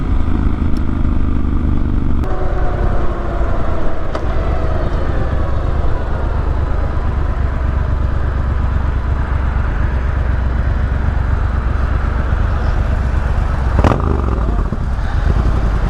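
A motorcycle rides a mountain road with a steady, close engine drone and wind rumble throughout, with a few faint clicks and clatters over it.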